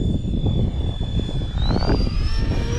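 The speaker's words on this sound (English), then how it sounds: "Look at that, such a beautiful airplane." A simulated A-10 jet's engines roar steadily in the FMS flight simulator, a loud continuous whine and rumble with a rising tone partway through.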